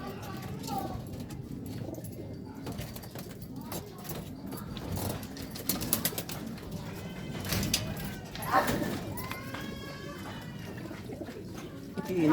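Racing pigeons coo softly in a loft amid rustling and shuffling, with faint background noise and occasional soft bird calls; someone speaks quietly at times.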